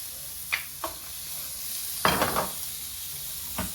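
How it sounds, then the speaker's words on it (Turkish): Meaty bones frying in butter and olive oil, a quiet low sizzle broken by a few brief stirring scrapes and one louder burst of spattering. "Gördüğünüz gibi önce kemiklerimizi biraz kavuracağız."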